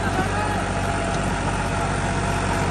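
A New Holland 3600 Heritage Edition tractor engine runs steadily with a rotavator, a close, continuous diesel drone with no pauses.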